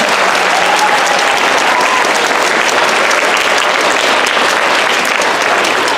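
An audience at a book launch in Delano gives a sustained round of applause, a dense, loud, even wash of clapping filling the room without pause.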